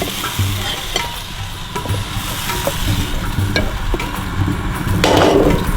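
Sri Lankan hoppers cooking in a pan, with steady sizzling, intermittent scraping and tapping of a utensil, and a louder burst of frying near the end.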